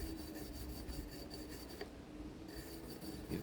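A brush scrubs a rusty hand tool during rust removal. The rasping strokes are quiet, close and continuous, with a brief pause midway and no talking.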